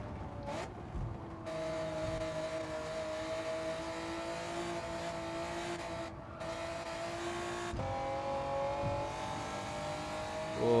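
A Honda NSX Type R race car on Tokyo Expressway in Gran Turismo 7 holds a sustained, loud engine whine, with a few sharp pitch changes as it shifts and revs through corners.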